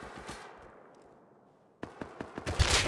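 Gunfire in the survival game Rust on a foggy map: a few sharp shots near the start, then a quiet stretch, then a rapid burst of loud cracks building toward the end.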